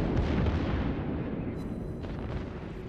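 USS Iowa battleship main guns firing in World of Warships, a deep rolling boom that sustains as a dense, rumbling wash of sound before slowly fading.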